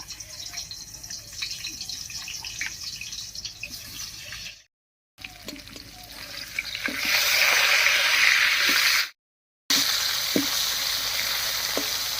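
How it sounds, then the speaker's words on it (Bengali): Steady, loud sizzling of a fish head frying in hot mustard oil in a pan, swelling louder partway through, with brief pops and crackles and two short breaks. "কড়াইতে সর্ষের তেল দিয়ে মাছের মাথাটা ভেজে নিচ্ছি"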